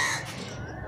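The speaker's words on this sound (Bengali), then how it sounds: "কাকটা কিন্তু ডাকছে" A crow caws once on a rooftop, a short, harsh and fairly close call that fades quickly into quiet surroundings.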